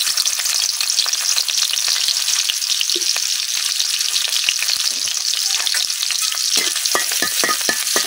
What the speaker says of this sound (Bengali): এখন দিয়ে দিতেছি কাইটা রাখা পেঁয়াজ।